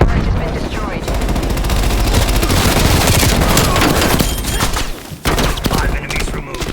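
A Death Machine minigun fires in a Call of Duty: Cold War team deathmatch, a loud, dense, continuous stream of rapid shots that runs nearly unbroken for several seconds, dips briefly, then resumes amid game effects.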